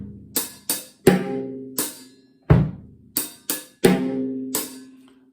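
A linear drum kit groove in which bass drum, hi-hats and snare each strike alone, never together, about nine sharp hits in a loose funky rhythm, close and clear with no voices.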